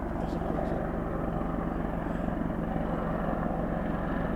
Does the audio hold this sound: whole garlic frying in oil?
no